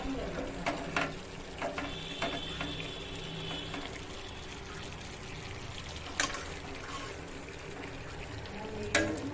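Milk is poured into boiled masoor dal (red lentils) in a pot while it is stirred: a soft liquid pour with scraping stir strokes and a few sharp clinks of the spoon, steady and close.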